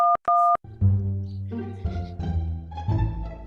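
A few short telephone dialing tones beep in quick succession, then a sustained ringing tone follows.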